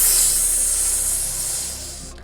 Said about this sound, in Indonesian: desis panjang seperti suara desir angin